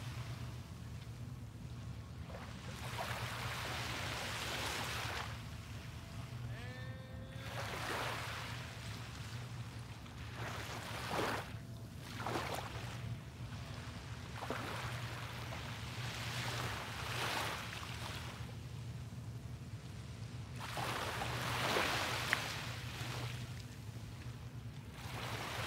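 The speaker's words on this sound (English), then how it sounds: "let's just soak in the sounds of the waves" Ocean waves break at sunrise in slow, recurring surges of soft hiss, each swelling and fading every few seconds over a faint steady low hum, with no voices.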